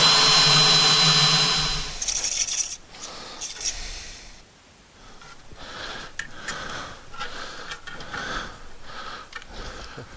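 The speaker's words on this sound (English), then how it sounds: "we're going to drill a hole for it to come through" A power drill bores a hole through a workshop cabinet for LED strip lighting: a loud whine for the first two seconds, then intermittent grinding bursts and handling noise.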